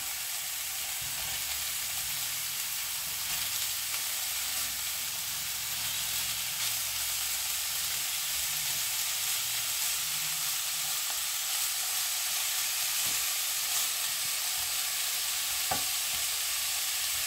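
Minced-meat kefta balls fry gently in a pan, a steady, even sizzle and hiss that holds for the whole stretch, with occasional faint taps and no talking.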